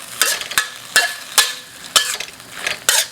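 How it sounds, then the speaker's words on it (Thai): Beef with holy basil and straw mushrooms is stir-fried with oyster sauce, a utensil scraping and tossing in a steady rhythm of sharp strokes over a continuous sizzle, close and fairly loud, with no speech. "ผัดต่อเลย"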